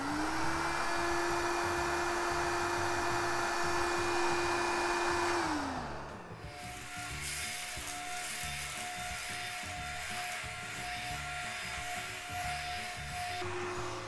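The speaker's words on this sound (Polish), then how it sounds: "dzięki któremu odkurzacz może pracować w trybie ciągłym" A Beko VRT82821DV upright vacuum cleaner runs continuously with a steady close whine. Its pitch drops partway through as it settles into a lower, rougher hum with rubbing noise, and nobody talks.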